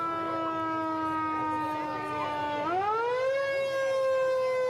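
A loud wailing siren at the NEBRASKAland Days parade in North Platte holds a steady tone, then sweeps upward in pitch, sustained and close throughout.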